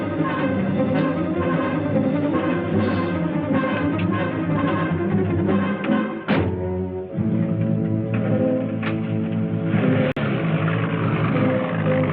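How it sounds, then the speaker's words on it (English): A car motor on a 1959 film soundtrack drones loudly and steadily, dips briefly partway through, then keeps running as it drives off, with no talk. "Go start the motor."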